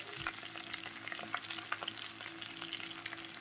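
Prawn and mixed vegetable curry sautéing with salt and turmeric in a pan, a steady soft sizzle of frying with occasional scrapes and taps of stirring, close and alone with no talk.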